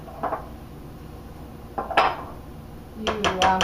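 A small spatula scrapes peanut butter pie filling from a bowl, giving a few brief scraping and clinking strokes against the bowl, then a denser run of taps and scrapes near the end, close and fairly clear with no talk.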